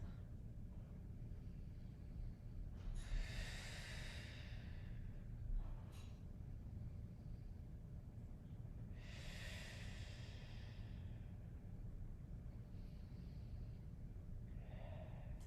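Deep exhales during a Pilates stretch, two or three faint breathy rushes of air several seconds apart over a low steady background hum.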